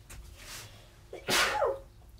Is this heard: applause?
no